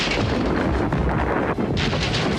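Cartoon weapons fire from a Transformers G1 battle scene, a dense, loud and continuous barrage of blasts and rumbling explosions with no break, heard on its own without any talk.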